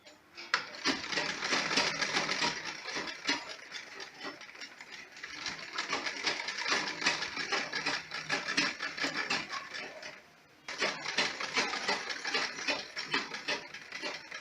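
Sewing machine stitching a homemade fabric face mask, a close, steady mechanical whirring chatter that runs continuously, pauses briefly, then resumes.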